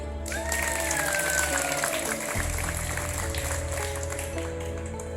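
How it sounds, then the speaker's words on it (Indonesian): Students applaud at a school assembly at SMA Negeri 3 Luwuk in a sustained, dense wash of clapping under a low steady hum. A brief rising tone sounds near the start. "Tepuk tangan dulu."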